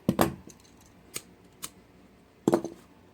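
Scissors snip kandi bead string, a handful of short crisp cuts with a pause, the loudest pair near the start and again at the end, close and alone without talk.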